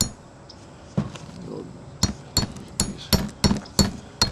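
A bearing is hammered into a trailer hub with a punch, giving a series of sharp metallic strikes that grow quicker and evenly spaced. The close, ringing taps stand alone with no talk.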